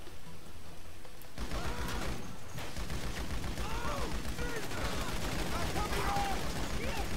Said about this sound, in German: Oh, ich werde angeschossen.